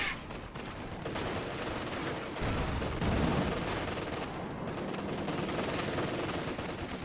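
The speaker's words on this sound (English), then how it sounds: "This Katyusha's barrage those mortars once again." A Katyusha rocket barrage pounds a position in the World War II strategy game Company of Heroes 2, a dense, continuous rattle of rapid distant impacts that stays fairly even for several seconds.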